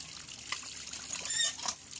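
Water gushes and splashes from a newly drilled well on a mountain, a close, uneven trickling and spattering with a few louder splashes.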